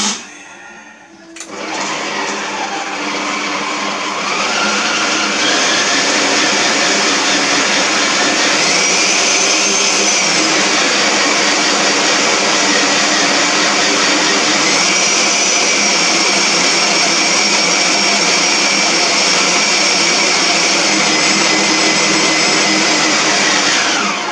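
A food processor starts up and then runs loudly and steadily as it mixes dough with almonds, a harsh motor whine that sweeps up and down in pitch as the load shifts, near and continuous.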